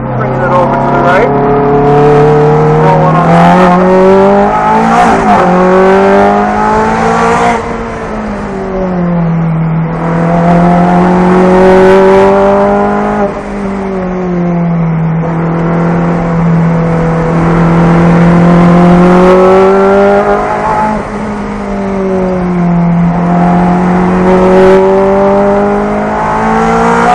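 A car on a race track during an instructor-driven run, its engine loud and close, rising and falling in pitch as it accelerates, shifts and brakes through corners, with a voice talking over it.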